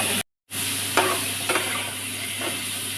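A spatula stirs food in a non-stick pan, giving a few scraping strokes over a steady background hiss after a brief dropout at the start; no one talks.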